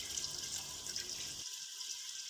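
Faint water pouring and splashing into a cooking pot of mutton paya for about a second and a half, then fading to quiet trickles.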